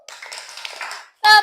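Brief burst of children clapping together in a classroom, loud and sharp for a moment after a stretch of chatter and noise from a group of kids, ending a praise-clap routine led by a teacher.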